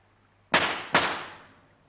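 Two sharp, loud pistol shots with blank cartridges, about half a second apart, each with a bright crack and a decaying tail, at close range with no talk.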